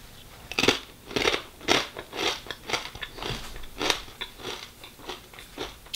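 Crunchy bites and chewing of homemade almond butter, a series of about a dozen close, crisp crackling bursts in an irregular rhythm, quiet and alone.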